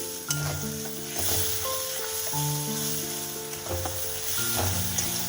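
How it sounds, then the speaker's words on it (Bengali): Masala with a spoonful of ginger paste fries in a pan, a loud steady sizzle interrupted by scraping stirs and occasional clinks. "1 চামচ আদা বাটা, একটু মশলাটাকে আমি কষে নিচ্ছি।"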